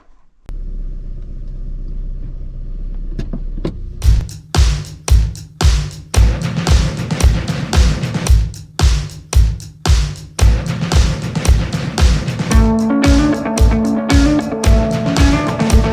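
A Mk1 Mazda NA MX5 Miata track car runs nearby, its engine rumbling and revving in repeated surges with a deep throbbing pulse, and a steadier drive toward the end.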